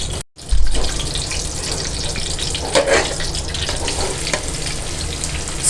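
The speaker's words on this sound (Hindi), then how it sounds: "इसमें हम देसी घी में फ्राई करेंगे इसको" Ginger sizzles and fries in melted desi ghee in a karahi for lamb, a steady close hiss with faint stirring clinks after a brief silent gap at the start, and no talking.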